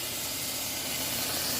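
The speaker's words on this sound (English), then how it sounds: "Now I'm going to toss in my tablespoon of garlic" A tablespoon of garlic sizzles in a pan for marinara sauce, giving a steady, dense hiss that stays even and unbroken throughout, close and fairly loud, with no talking over it.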